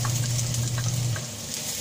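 Garlic sizzling and frying in a pan for bacon carbonara, a steady close crackle with a low hum underneath that fades slightly toward the end.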